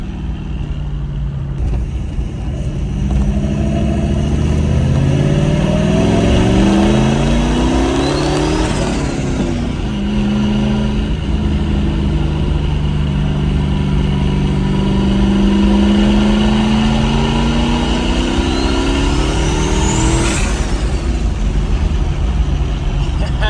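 A turbocharged 5.0 Ford Ranger accelerates hard on its first drive with boost, engine roaring loud and close with rising revs, turbo whine and possible tire spin, while people talk inside.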